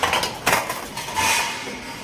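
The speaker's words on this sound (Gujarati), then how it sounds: "આ ડીસું છે અને ડીસુને ગોઠવી દઈએ" Dishes clattering as they are set into place in a home kitchen, with several sharp clinks and scrapes of plates and cutlery close by, no voices.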